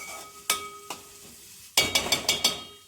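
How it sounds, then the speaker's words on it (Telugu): Chopped onions frying in a pan for pav bhaji, with a steady sizzle broken by sharp metallic clinks and scrapes of a spoon stirring against the pan, a few single knocks, then a quick cluster of them. "ఇప్పుడు ఆనియన్స్ వేసుకున్నాం కదా, ఇది కొంచెం గోల్డెన్ బ్రౌన్ వచ్చేంత వరకు ఫ్రై అవ్వాలన్నమాట"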